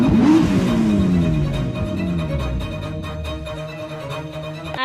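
A car revs and pulls away in an animated Hindi horror story, a loud engine sweep rising then fading as it drives off, with a sharp clunk at the end.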